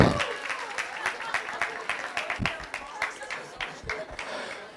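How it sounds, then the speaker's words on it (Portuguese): An audience at an education talk gives a short round of applause, a scattered patter of clapping hands that starts strong and thins over about five seconds. "Gente, uma salva de palmas para a Lúcia que matou a charada."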